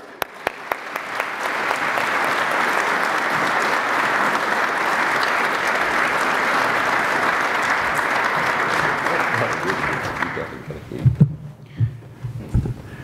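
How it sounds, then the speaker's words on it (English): Sustained audience applause at a high-speed rail stakeholders' conference welcoming the New York governor, a dense steady wash of many hands clapping for about ten seconds before fading into a few scattered claps and thuds. "Please give this gentleman a round of applause, Governor David Paterson."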